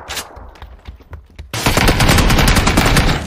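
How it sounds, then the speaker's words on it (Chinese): Gunfire rings out in a shooter video game: a few sharp single shots at first, then a loud, dense burst of rapid automatic fire that keeps going to the end. "开枪了。"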